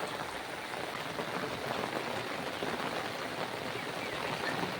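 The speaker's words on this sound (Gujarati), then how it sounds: "હાલ તો વરસાદની સ્પીડ ધૂમધમાટ ચાલુ જ છે હજી સુધી ધીમી નહીં પડી" Heavy rain pours steadily over a farming village, a dense, continuous hiss of drops hitting surfaces that stays loud and unbroken throughout, with no voices.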